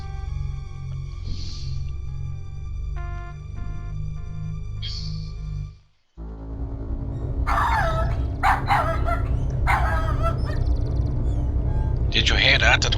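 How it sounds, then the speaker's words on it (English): A dog barking in the video game King's Quest VII, a few distant yips over a droning game soundtrack, followed by denser, louder barks near the end against a busier background. "That was a dog barking."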